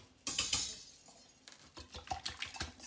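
A whisk beats a ham and cheese omelet mixture of eggs seasoned with salt and pepper in a bowl, giving irregular clinks and soft tapping strokes that start quiet and grow busier and more rhythmic.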